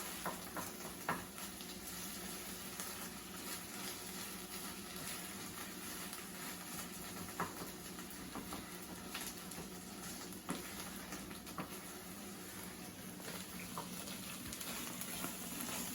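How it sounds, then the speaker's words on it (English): Brunch ingredients with melting cheese are stirred in a frying pan over low heat, giving a steady soft sizzle with scattered scraping clicks throughout. "I'm just mixing everything together."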